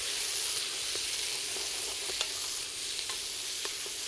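Fennel and onion saute in olive oil in a hot pan, giving a steady close sizzle with scattered clicks and scrapes as a utensil stirs them, with no talking.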